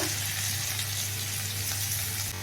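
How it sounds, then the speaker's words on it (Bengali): Tomato, ginger-garlic paste and chili masala sizzles steadily in a hot pan, a continuous close frying hiss with a brief clatter near the end. "এবার এই মশলাটা কষবো"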